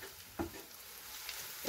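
Onions sautéing in a pan, a soft steady sizzle with a couple of brief stirring scrapes, close and quiet.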